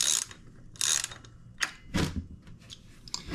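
A ratchet wrench works a 20 mm nut on an electric scooter axle while a tire is being changed, giving bursts of close metallic clicking in uneven short runs with brief pauses between them.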